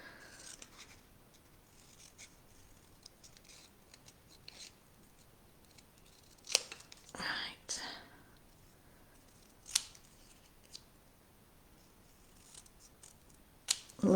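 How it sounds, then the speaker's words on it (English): Sharp scissors fussy-cut paper with quiet snips and rustles, a few louder crisp cuts scattered through a mostly hushed stretch. "You do need some sharp scissors as well, like this, for fussy cutting."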